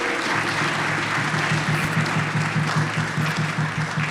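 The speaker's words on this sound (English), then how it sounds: "Let's applaud again all of the presenters." Audience applause for presenters at a college lecture in Queens, New York; dense, steady clapping from a room of people, close and continuous throughout.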